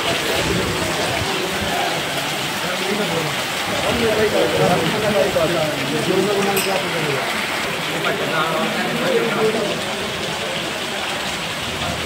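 Heavy rain pouring down on the town of Kej during a windy thunderstorm, a dense, steady hiss of rainfall on surfaces close by, with a voice speaking over it throughout.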